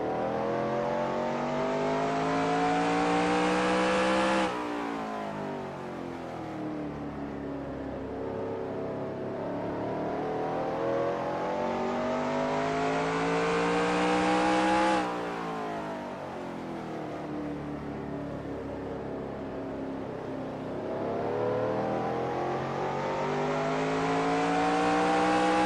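NASCAR Racing 2003 cars on the Martinsville short track in a Busch Grand National race, a loud, steady engine roar sweeping up in pitch on each straight and dropping into the turns, repeating in long laps.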